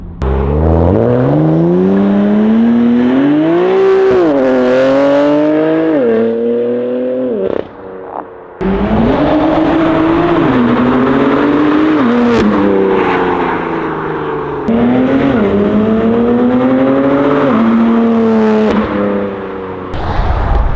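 A loud, rasping BMW M3 with a new loud exhaust revs hard and roars past close by, pitch climbing and falling in repeated pulls with a brief gap midway.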